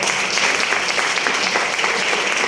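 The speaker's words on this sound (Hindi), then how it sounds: "एक बार सब लोग के लिए जोरदार ताली।" Loud, dense applause from a seminar audience, steady continuous clapping filling the whole stretch, no talking.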